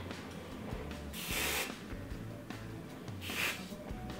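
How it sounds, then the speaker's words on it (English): Hairspray hissing in two broad sprays from an aerosol can onto a ballet bun, each burst about half a second long, close and fairly loud with quieter room sound between them. "I'm just going to hairspray it. Make sure to specifically spray the bun, and then again spray the sides."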